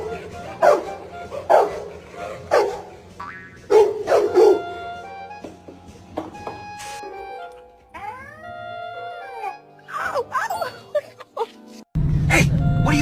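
A Rottweiler barks in loud, close bursts, a string of deep woofs followed by higher yips and whining howls, with a voice talking in between.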